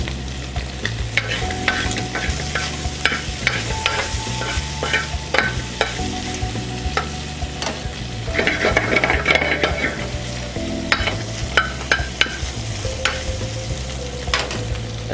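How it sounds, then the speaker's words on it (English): Pancetta fries in its melting fat for carbonara, a continuous close sizzle with frequent knocks and scrapes as it is stirred and flipped, steady throughout with no talk. "melt all that fat in the pancetta"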